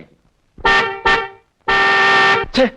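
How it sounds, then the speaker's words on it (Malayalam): A car horn sounds in two pairs of blasts, each a longer honk followed by a short toot, loud and close against a quiet background. "ഡബിൾ ഹോൺ ആണോ"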